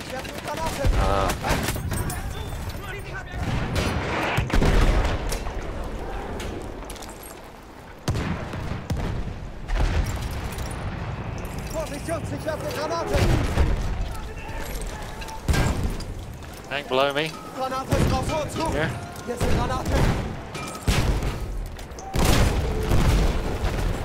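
Battlefield 1 combat with a thrown grenade exploding amid repeated gunfire bursts and booms, loud and dense across the whole stretch, with players talking over the battle noise.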